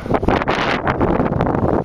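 Loud gusts of wind on a Pyrenean mountain pass batter the microphone in rough, uneven bursts, a short blast of roaring air with no voices.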